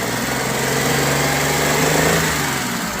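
A car engine with a misfire runs under light throttle, its steady close drone carrying an uneven, slightly lumpy pulse throughout.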